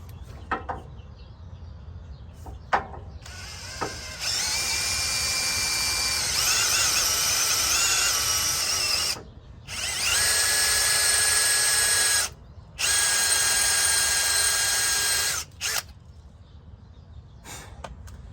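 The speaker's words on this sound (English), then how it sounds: "Then I'm gonna use a 5mm bit. I'm basically gonna drill it in about an 1/8 inch." A power drill with a 5mm bit whirs loudly in long bursts, stopping briefly between runs, with a few clicks and taps before and after.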